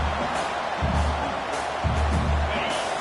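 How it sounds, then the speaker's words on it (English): Stadium crowd roar from the NCAA 26 college football video game, a dense continuous wash of noise with low rumbling swells, steady and loud throughout. "listen to this crowd noise. This stadium is vibrating."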